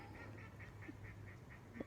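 Ducks quacking outdoors: a faint, regular run of nasal honking calls, about eight in quick succession, distant against a low background hum.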